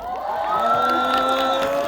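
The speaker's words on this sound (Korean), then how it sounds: "우리 댄서들 한 번만 박수 쳐주시면 안 될까요?" A festival crowd at a Jecheon university celebration cheers and whoops for dancers, a bright, continuous wash of shouting voices with excited tonal calls over it, steady and close for the whole stretch.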